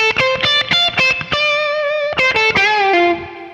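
Electric guitar with distortion runs through a solo phrase: bursts of rapid picked notes, a held tone, another quick flurry and a final sustained note, loud and solo.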